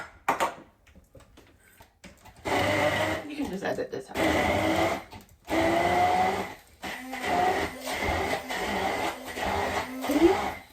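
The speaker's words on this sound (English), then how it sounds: "the handheld stick blender" Handheld stick blender pureeing rehydrated chilies with onion for laksa paste, running in loud bursts with short pauses between them while people talk over and between the runs.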